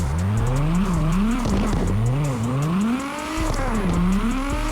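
Simulated R32 with an 1100 bhp tune slides through a CarX Drift Racing run, its engine revving and dipping in repeated swells while tires squeal steadily underneath, loud and continuous with no talking.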